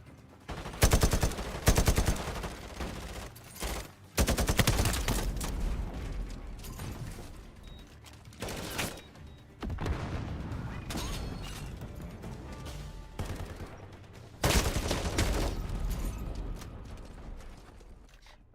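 Rapid bursts of automatic gunfire and single shots in a Call of Duty Modern Warfare beta multiplayer match, loud and close, with clattering weapon handling between volleys and no talk.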